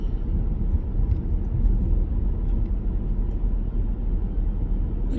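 A 2017 Cadillac ATS with a V6 and all-wheel drive pulls hard at high RPM, a dense, steady engine rumble heard close and continuous with no talk.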